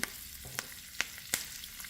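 Mustard seeds, cumin and lentils sizzle and crackle in hot oil, a soft hiss broken by several sharp pops spaced a fraction of a second apart.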